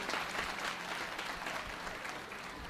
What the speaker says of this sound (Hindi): कुछ तालियां इस ब्राह्मण के लिए भी बजा दो